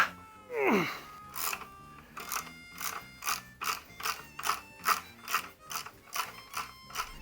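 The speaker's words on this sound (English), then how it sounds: "Loosen off the pinch bolt for the axle." A ratchet wrench loosens the axle pinch bolt on a Triumph Bonneville front fork, giving a steady run of about a dozen evenly spaced metallic clicks after an initial heavier creak, close and moderately loud.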